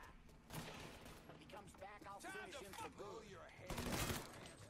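Gunfire from a sniper rifle in Mafia 3 cracks out in short bursts at a theme park, with clattering mechanical noises and a voice speaking over the shots.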